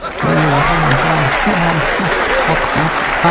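Continuous loud applause from an audience runs throughout, with a voice speaking over it.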